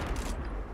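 Gunfire in Counter-Strike: Global Offensive rattles as a dense, continuous burst of loud game shots filling the whole moment.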